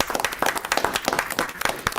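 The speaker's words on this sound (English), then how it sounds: "if we can give our city staff team members another round of applause for their support." Applause from the audience at a city redistricting commission meeting, thanking the city staff team members: a short burst of dense, brisk clapping from a roomful of people, close and steady throughout.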